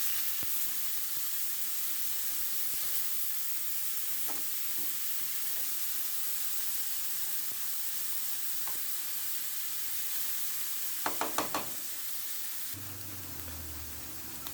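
Cauliflower rice seasoned with roasted garlic and herb sizzling in a pan, a steady hiss of frying with occasional stirring scrapes and a brief burst of clatter near the end, no voices.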